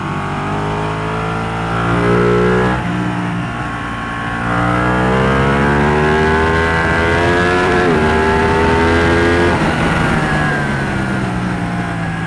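A Ducati Panigale motorcycle engine revs while being ridden, its pitch rising and falling in long sweeps across several gear pulls, loud and close with steady wind noise and no talk.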